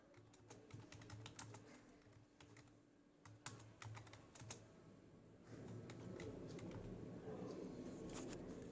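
Rapid typing on a computer keyboard, close and fairly quiet, with irregular clusters of key clicks over a low background hum that grows louder partway through.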